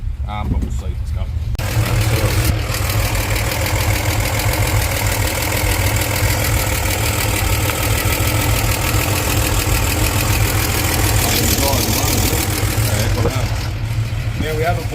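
A car engine idles steadily and loudly up close after its spark plugs were cleaned during a fuel leak check, a continuous low rumble with a faint knock that runs the whole time and stops near the end.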